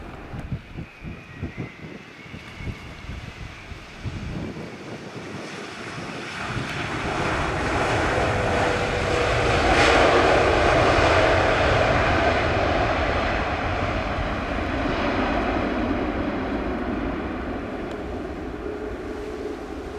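An airplane landing at Montego Bay airport in Jamaica, its engine roar building from a distant rumble to a loud, sustained rush that lingers steadily as it passes.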